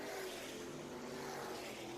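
Late model race cars circling Southern Raceway, a steady blended engine roar from several cars at middle distance, continuous with no talk.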